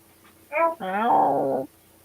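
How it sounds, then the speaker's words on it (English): A guinea pig gives a short, close squeak followed by a longer wavering, meow-like cry, standing alone against a quiet background. "that was the guinea pig meowing at you"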